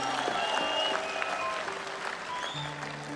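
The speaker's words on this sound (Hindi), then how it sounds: "पसंद आए हो तो जरा एक बार इनके लिए तालियां बजा दीजिए" Applause from an audience at a stage event, a steady crackle of clapping that carries on evenly throughout at a moderate, somewhat distant level.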